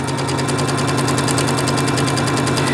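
A sewing machine stitches along a curve in fabric, running at a fast even rhythm with a steady mechanical whir and rapid ticking, loud and close, no voice.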